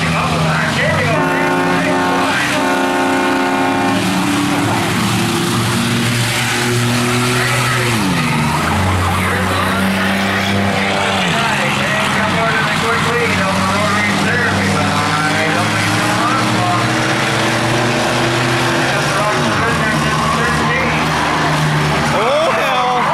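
A Camaro race car engine drones and shifts pitch as it passes during a night race, with tire squeal and track noise under it and a voice talking now and then.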